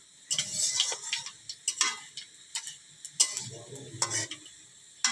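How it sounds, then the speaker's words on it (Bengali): Panch phoron and dried red chillies frying in oil for a pickle, light crackling sizzle with scattered sharp pops and stirring scrapes in irregular bursts, fairly faint and close, no voices. "পাঁচফোড়নটা একটু ভাজা ভাজা হোক।"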